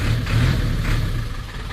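A 2004 Vortex with a gutted catalytic converter runs steadily nearby, a loud, rough mid-pitched engine rumble with slight swells in revs and no voices.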